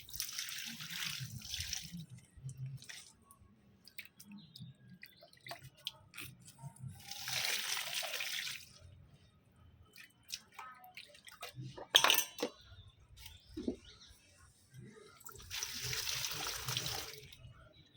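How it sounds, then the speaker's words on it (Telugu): Water is poured onto hibiscus plants in several separate bursts of splashing and trickling. Quiet drips and small clinks fill the pauses between pours. "సో మనం వాటర్ అంతా కూడా మన పూల మొక్కలకి అందించేసుకుందాం రండి"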